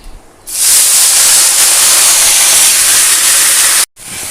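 A loud, steady hiss of banana flower frying in a hot pan starts abruptly, holds evenly for a few seconds, then briefly cuts out.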